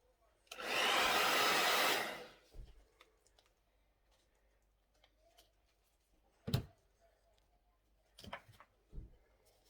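Air blown across an acrylic Dutch pour with botanical colour split, a steady broadband hiss lasting under two seconds near the start, followed by scattered soft knocks and clicks with quiet gaps.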